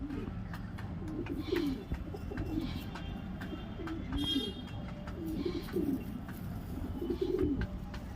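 A male pigeon coos repeatedly at close range, soft rolling calls rising and falling over a faint background hum.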